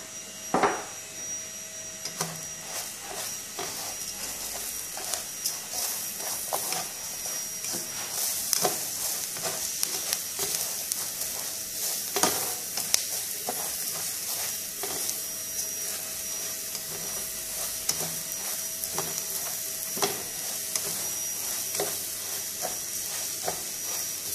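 Garlic and onion frying in a pan, a steady bright sizzle running throughout with frequent crackles and occasional scraping stirs, close and continuous with no talking.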